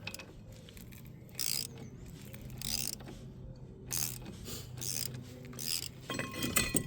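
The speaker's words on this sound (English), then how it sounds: "I have just changed to a ratchet using 18mm just to help loosen it." An 18mm ratchet working loose a brake caliper bolt on a 10-plate Renault Twingo, a series of close, sharp ratcheting clicks in uneven bursts separated by short pauses, with faint metallic clinks in between.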